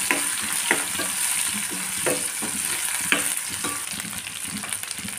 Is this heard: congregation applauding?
no